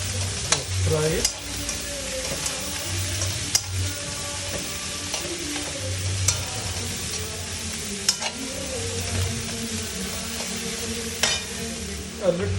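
Onion sizzling steadily in hot oil while being stirred, with repeated scrapes and clicks of a spoon against the pan over a continuous frying hiss.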